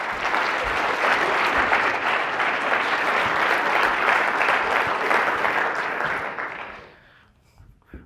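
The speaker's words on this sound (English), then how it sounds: "Let's give these guys a big round of applause." A stage audience claps for volunteers in a dense, sustained round of applause from many hands, loud and even for several seconds before fading to a few scattered claps and near silence.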